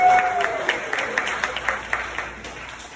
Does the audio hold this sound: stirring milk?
no